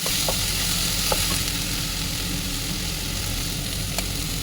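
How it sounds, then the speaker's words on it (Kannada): Onions and tomato frying in a pan for a vegetable Maggi dish, a steady close sizzle with faint stirring clicks now and then, no voices. "ಟ್ರಾನ್ಸ್ಲ್ಯೂಸೆಂಟ್ ಆಗೋ ತನಕ ನೀಟಾಗಿ ಫ್ರೈ ಮಾಡಬೇಕು."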